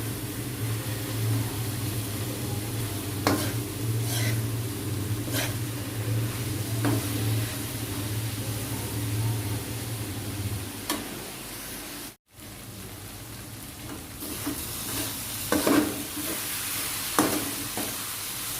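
Vegetable fried rice ingredients stir-fried and tossed together in a pan, a long close sizzle over a steady burner hum, punctuated by irregular scraping and clanking stirs, a brief cut midway, then more hissing and clatter; no speech.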